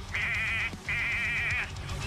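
In the Payday 2 Goat Simulator heist, a goat lets out two loud, wavering bleats in quick succession, each under a second long, over steady game background noise.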